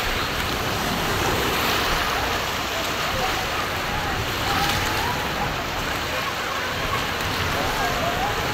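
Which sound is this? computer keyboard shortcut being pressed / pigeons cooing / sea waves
sea waves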